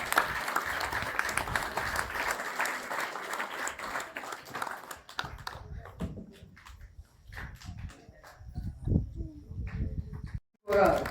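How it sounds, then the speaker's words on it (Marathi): Audience applause at an Ahilyadevi Holkar birth anniversary function in Kapuswadi, a dense burst of clapping that fills the first five seconds and then thins into scattered claps and crowd murmur, with brief talk. "मोठ्याने टाळ्या वाजवा"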